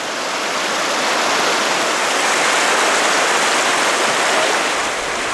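Rapids on the river at Bovec rush in a dense, loud, continuous roar of churning whitewater, steady from start to finish with no voices.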